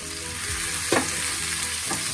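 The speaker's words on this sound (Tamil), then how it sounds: "போட்டு நம்ம எண்ணெய் கொடுங்கலாம் வந்து வதக்கி விட்டுக்கலாம்" Chopped large onions sautéing in oil in a pan for a mushroom gravy, a steady close sizzle with a couple of brief stirring scrapes, no voices.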